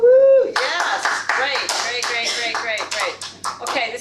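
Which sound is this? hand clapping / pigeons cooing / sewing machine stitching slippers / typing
hand clapping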